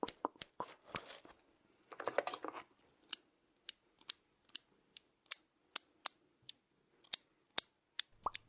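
A pair of scissors snips steadily in a quiet room, with a brief quick run of cuts early on and then single crisp, evenly spaced snips, close and soft.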